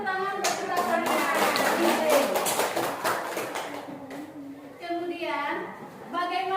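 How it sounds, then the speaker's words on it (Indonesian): A group of teachers and parents claps together in a burst of rapid, overlapping hand claps that fades out, while voices talk over and after it. "Kita beri tepuk tangan untuk kita semua."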